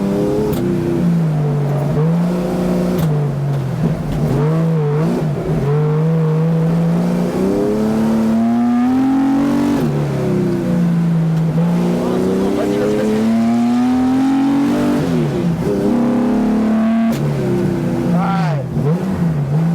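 Porsche 913 BB engine accelerating, a loud droning note that repeatedly climbs in pitch through the gears and drops back at each shift, with talk inside the car over it.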